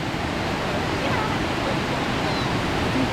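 Water flowing in a stream or small waterfall, with a dense, steady rushing wash that stays loud and close throughout with no pauses.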